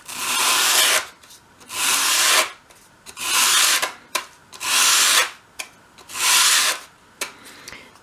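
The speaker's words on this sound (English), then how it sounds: "hold the piece against your sandpaper at a 45-degree angle, and as you sweep it towards you, bring it into an upright position" A small wooden wardrobe door for a 1/12 scale dollhouse is swept repeatedly across sandpaper, five or six close, rhythmic rasping strokes separated by brief pauses.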